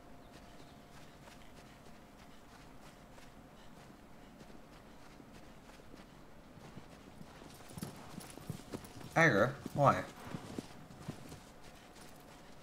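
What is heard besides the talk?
horse hooves clip-clopping in Shadow of the Colossus video game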